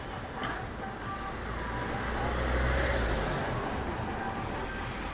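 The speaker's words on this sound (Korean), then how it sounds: "지금은 시끄러운 번화가의 환경 소리입니다. 차 소리, 노래 소리, 사람들의 소리가 들리는 곳입니다" A busy downtown street with a steady, loud wash of passing car traffic that swells and eases. Individual music or voices are not distinct in the din.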